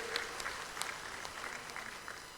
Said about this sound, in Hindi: दोनों हाथ ऊपर उठा के ताली बजा के उनका स्वागत कीजिए